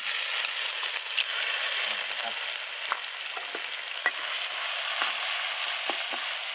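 Seasonings for Thai stir-fried basil with chicken blood sizzle in medium-hot oil, a steady loud crackling hiss with small pops and stirring scrapes, close and continuous, with no talking.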